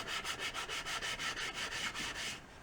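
A buffing wheel works over the edge of a 1938 Leedy Broadway Parallel snare drum shell, giving a steady, close rubbing whoosh in about ten even strokes that stops near the end.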